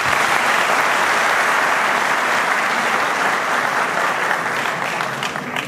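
A large crowd at a Sivas folk music night in Pendik, Istanbul, applauds loudly and continuously, a dense wash of clapping that holds steady for about five seconds before easing slightly at the end.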